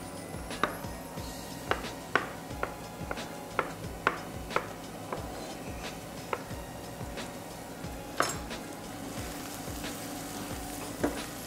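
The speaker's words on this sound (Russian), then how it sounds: "мы будем резать грибы" A knife chops mushrooms on a board in a steady series of crisp, close taps, roughly two per second. Faint frying sizzles underneath, with no speech.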